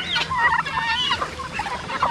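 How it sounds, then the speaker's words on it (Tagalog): Farm chickens, hens and roosters clucking and calling in a lively chorus, with bursts of squawks and gobble-like cries close by, steady throughout without talk. "Yung natira sa ating mga manok dito, mga inahin, mga tandang."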